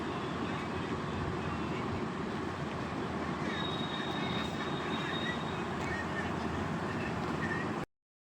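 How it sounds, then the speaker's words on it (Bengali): A train stands at a station platform, giving a steady, loud rumble of idling engine and ambient station noise throughout before cutting off abruptly. "তো এই প্ল্যাটফর্মে একটুখানি দাঁড়ালো ট্রেনটা।"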